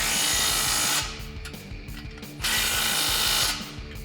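A 15mm socket on a ratchet tightens the factory exhaust clamp on a 2015-2021 Ecoboost Mustang, with loud, close bursts of rapid clicking ratchet strokes separated by brief quieter pauses.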